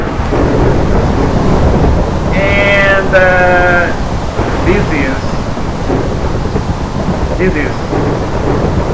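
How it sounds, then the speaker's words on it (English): Steady rain hiss fills a Minecraft scene with a rumbling roll of thunder, while a sheep bleats a few times and someone speaks briefly over it. "So it's raining, as you can see."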